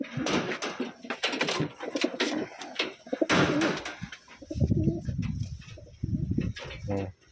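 Taiwan pigeons coo in low, soft bursts nearby amid rustling, flapping and handling clatter, with a few muffled knocks in between.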